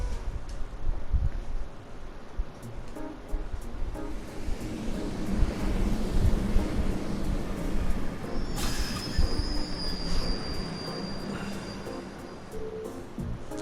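A train rolls steadily along rails in the video game Trails of Cold Steel, a continuous rumbling clatter with a brief high wheel squeal partway through, heard alone at moderate distance.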